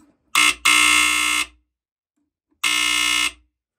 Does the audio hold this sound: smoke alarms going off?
yes